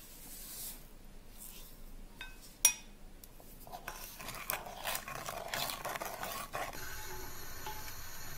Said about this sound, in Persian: مخلوط شیر رو روی حرارت میذارم و هم میزنم